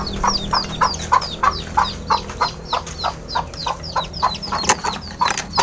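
A gamefowl breeder rooster clucks in a steady series of short, close calls over a faint farmyard background.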